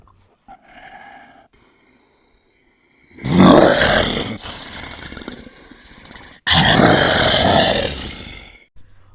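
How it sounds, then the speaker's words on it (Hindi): A bear growls close by, two loud, rough roaring bursts with a short gap between them, following a few seconds of faint, quieter sounds. "मुझे भालू के घुर्राने की आवाज़ आई।"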